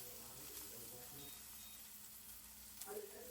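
A large steak seared fat-cap side down in a hot pan gives a faint, steady sizzle, quiet and continuous, with a brief brighter flare near the end.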